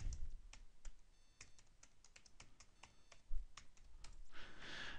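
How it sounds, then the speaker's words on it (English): A password being entered on a computer keyboard, with quiet, close, irregular key taps in a steady stream and no one talking. "Let's type it in now."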